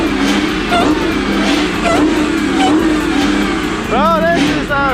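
A Dodge Hellcat's engine rumbles loud and close with rising revs, while excited voices talk over it throughout.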